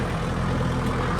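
A farm tractor fitted with a rotavator idles in a field, giving a steady, loud low rumble that holds constant with no variation over the short stretch.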